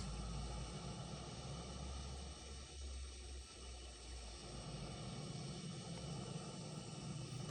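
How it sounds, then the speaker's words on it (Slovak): Large airliner taxiing to the runway in a flight simulator game, a steady broadband jet engine roar and hiss that holds throughout with a slight dip midway. "Tak už taxingujeme na runway."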